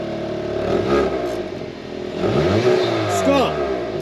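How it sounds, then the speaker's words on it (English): The engine of a Hyundai Kona N in normal mode is revved twice. Each blip rises in pitch and then falls back to idle, and the engine is heard close and fairly loud. "Give it a rev in normal."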